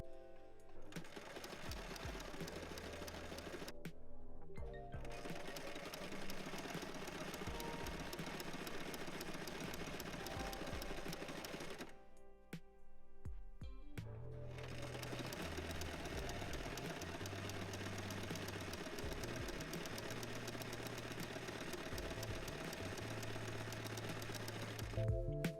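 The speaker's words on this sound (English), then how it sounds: "I'm going to zigzag stitch at the bottom." A sewing machine runs a zigzag stitch along the bottom of bikini fabric, whirring steadily at close range in long runs broken by two brief pauses, with no voices.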